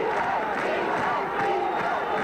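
A crowd of about 8,000 on its feet at a high school football quarterfinal in Morris, a steady, dense roar of cheering and shouting that holds at a constant loud level throughout.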